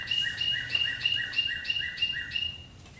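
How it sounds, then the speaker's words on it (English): Birds singing outdoors in Appalachia, a bright repeating chirped phrase of about eight notes in an even rhythm, moderately near over quiet background, with no talk. "Birds really having a good time out there singing."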